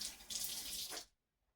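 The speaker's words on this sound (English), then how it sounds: "And then I'm gonna add a little bit more water" Water running from a faucet to top up a crock pot for cooking meat, a close steady gush that cuts off sharply after about a second, leaving quiet.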